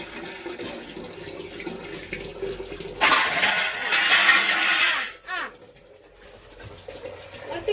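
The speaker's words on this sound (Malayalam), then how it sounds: "വെള്ളം പിടിക്കാണ്" A tap gushes water into a container in a village home kitchen, a loud burst of about two seconds that then stops, with someone speaking before and after.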